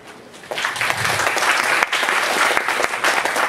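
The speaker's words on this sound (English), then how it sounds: "Please give them a warm round of applause." Warm applause from the audience at the opening ceremony of an international symposium on wireless broadband infrastructure, many hands clapping loudly and continuously, swelling after a brief softer start.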